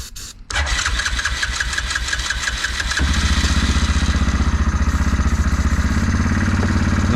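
Engine cranks rhythmically for a few seconds on starting fluid, then catches and settles into a loud, steady, close running idle with no talking.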